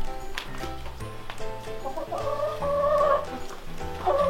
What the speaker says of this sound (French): Je m'occupe des poules.